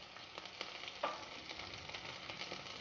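Onions, turmeric and green chillies frying in hot oil for a tomato and green pea curry, a steady close crackling sizzle with brief stirring scrapes and one sharper clink near the middle, no voices.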